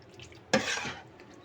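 Chicken curry with turmeric powder is stirred in a pot: one brief close scraping stir with a soft sizzle, otherwise quiet.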